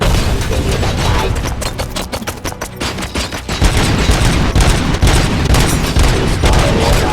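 Artillery and gunfire pound without pause in the video game RoboCop: Rogue City, a loud, dense barrage of booms and rapid shots filling the whole stretch.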